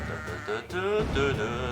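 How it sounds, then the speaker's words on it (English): Sheep bleating in the tower-defense video game Kingdom Rush, a couple of wavering bleats rising over game music and effects, fairly loud and close. "Since when the sheep explode?"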